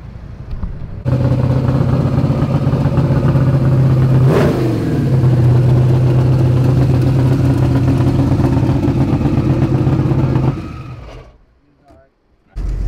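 A 2000hp Corvette Z06 drag car with a tight converter roars loudly at close range as it launches down the strip, a sustained engine drone holding for several seconds before fading away.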